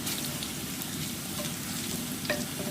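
Garlic frying in hot oil for beef tongue noodle soup, a steady close sizzle with faint stirring throughout, alone.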